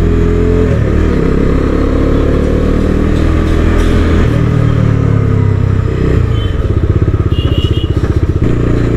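A new motorcycle is ridden and revved, a loud close engine roar with wind rush, pulsing into a choppy throttle blip near the end.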